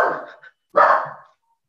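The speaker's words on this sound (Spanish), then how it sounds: "Una disculpa por los perritos." Dogs barking close by during an online webinar, two loud rough bursts separated by a short silence, with no talk over them.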